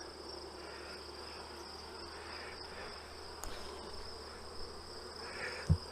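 Honeybees hum around hive frames outdoors during a honey pull, a faint, steady insect drone with a couple of brief nearby bumps and handling knocks, no voices.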